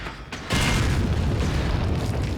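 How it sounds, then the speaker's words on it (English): A grenade blast in Resident Evil 4 bursts loud and close after a quieter half-second, then rolls on as a broad, sustained rumble with debris-like crackle for the rest of the moment. "Grenade!"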